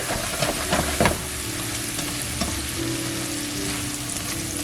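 A T-bone steak doused in Worcestershire sizzles in a pan on low heat, a close, steady frying hiss with a few louder crackles and spatters early on and no talking.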